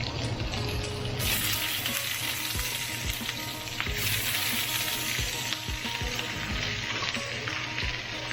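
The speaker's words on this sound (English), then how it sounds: "I'm going to go ahead and throw in my vegetables. So this one skillet is popping hot." Fajita vegetables sizzle and hiss steadily in a very hot skillet, a loud dense frying crackle throughout with occasional soft knocks and scrapes of stirring.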